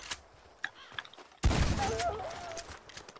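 A single gunshot fired into the sky in the video game Red Dead Redemption 2, a sharp, loud bang followed by a rolling echo that fades out.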